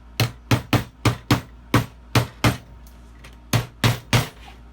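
A hammer drives brads back into a wooden chicken coop with about eleven sharp, close strikes in a steady rhythm, broken by one brief pause near the middle.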